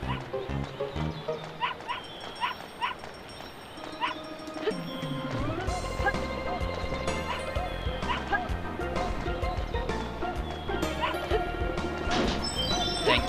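A dog in the video game Alundra 2 lets out a series of sharp barks and yips amid crashes, whacks and game music, busy and layered throughout with no talk.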